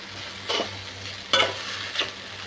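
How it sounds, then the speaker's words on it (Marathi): Sabudana khichdi with potatoes and peanuts sizzles softly in a pan as a spatula stirs it, giving three distinct scraping, tossing bursts spaced about a second apart over a low steady fry, with no voices. "चांगलं परतून घेऊ"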